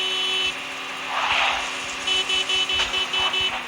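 A quad bike engine running while on fire in a battle royale video game, a steady droning motor with a louder surge and a quick series of rhythmic pulses near the end.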